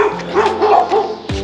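A dog barks and yips a few times nearby on Koh Samui, Thailand, with a low steady hum underneath and a sharp thump at the end.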